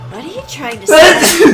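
A man sneezes loudly once near the end, a sharp burst following a short line of talk from another voice.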